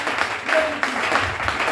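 Church congregation applauding and acclaiming Jesus Christ during a French-language service, a steady wash of clapping with voices mixed in throughout.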